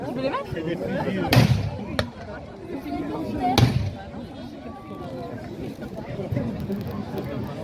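Two cannon shots from a Waterloo battle reenactment boom out as sharp, heavy blasts a couple of seconds apart, over a constant crowd murmur and outdoor noise.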